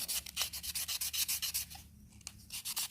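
Rhythmic rasping strokes of sandpaper rubbing wood, a steady back-and-forth pattern of about a dozen close, fairly loud passes with a brief pause near the end.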